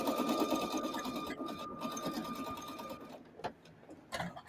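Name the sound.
Singer heavy duty sewing machine stitching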